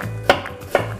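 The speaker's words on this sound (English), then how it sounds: "Chop that onion as finely as you can be bothered." A kitchen knife chops red onion finely on a board, two crisp separate knocks spaced about half a second apart, close and clear with no talk.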